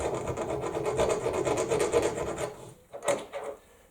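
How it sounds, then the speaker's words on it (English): A hand file rasps across 1045 medium tensile steel in steady back-and-forth strokes, close and clear, then stops briefly before a couple of final scrapes. "I might not be able to tell by filing."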